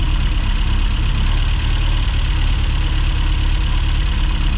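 A John Cooper S Sport engine idles roughly, a loud, close, continuous low rumble with a steady pulsing vibration.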